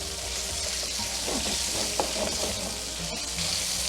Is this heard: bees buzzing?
no